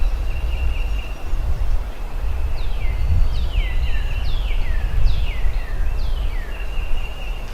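Wild turkey gobbler gobbling outdoors, several rapid descending gobbles repeated in quick succession at moderate distance over steady wind and ground noise.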